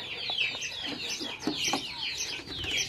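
Young hens feeding together in a coop, a close chorus of soft overlapping clucks and chirpy calls repeating throughout with low scratching underneath.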